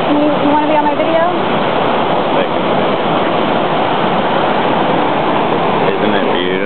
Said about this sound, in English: We are at the Smoky Mountains Waterfall.